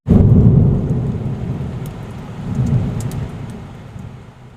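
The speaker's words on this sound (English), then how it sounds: "What's the noise? holy shit! A Tornado!" Thunderstorm with heavy rain, a loud deep rumble of thunder swelling at the start and again midway over a constant wash of rain, with no voices.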